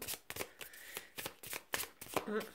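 Tarot cards shuffled and drawn one by one, giving soft papery riffles and flicks in short bursts about every half second, close up and fairly quiet, with no talking over them.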